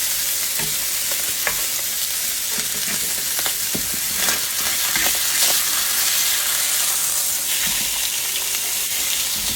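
Hamburger steaks sear in a frying pan with a loud, steady, close sizzle and hiss that never lets up, and occasional faint scrapes and pops rise above it.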